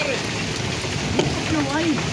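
Steady rain patters on a surface outdoors in the Philippines, a dense hiss filling the background while someone talks over it.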